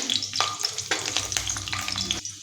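Green chillies roast in a nonstick pan until white spots form, giving a continuous crackling sizzle with bursts of spattering pops throughout, close and fairly loud.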